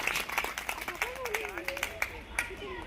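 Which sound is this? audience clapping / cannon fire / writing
audience clapping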